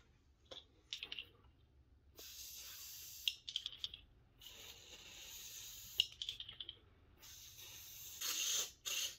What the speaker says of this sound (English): Might have to just keep spraying it down until it works its way out.